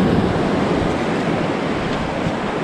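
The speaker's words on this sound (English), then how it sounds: "Oh no, what happened to the waves?" Ocean surf from a small, weakened swell, heard as a steady broadband wash of waves with wind rushing over the microphone, continuous and fairly loud throughout, with no voices.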